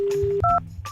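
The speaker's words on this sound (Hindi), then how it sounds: "फोन मिलाया जा रहा है" A telephone being dialed during a prank radio call, with a steady tone and then a short pair of dual-tone keypad beeps, loud and close, with no talking.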